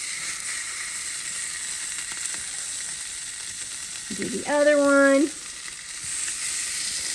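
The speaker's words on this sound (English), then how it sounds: "Hear it sizzle." Big fat pieces of meat sizzle on a very hot Kansas City style BBQ surface, a steady close hiss that swells briefly near the middle as a short remark is spoken.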